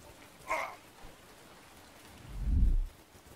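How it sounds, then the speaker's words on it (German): Rain falling in a survival video game: a steady, soft hiss throughout, with a brief brighter patter and a low, rumbling swell later on. "es regnet gerade"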